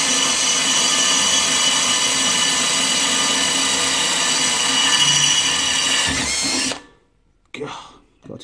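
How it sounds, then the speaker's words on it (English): A power drill whines loudly and steadily for several seconds, then cuts off abruptly, followed by a brief quieter rattle. "Right, holes to drill."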